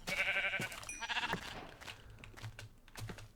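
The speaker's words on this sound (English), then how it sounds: "Ooh, the sheep." Minecraft sheep bleat several times in quick succession near the start, loud and close, with soft clicking and game noise afterward and no talking.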